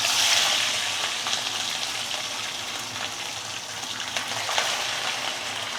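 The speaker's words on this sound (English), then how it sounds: "So we let it stay and fry for at least 2 to 3 minutes before we flip it to the other side" Fish frying in oil heated past its smoking point, at least 180 degrees, gives a steady, close, dense sizzle and crackle that holds throughout without any talk.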